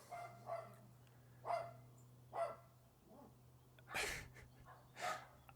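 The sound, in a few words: dogs barking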